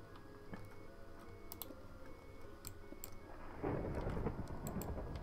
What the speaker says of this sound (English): Oh yeah, you like that? That thunder?